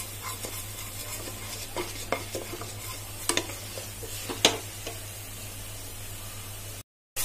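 Tomatoes cook in a pot of Sindhi chana dal on medium heat, a soft steady sizzle broken by spoon scrapes and taps as they are stirred; close, no voices, ending in a brief silence.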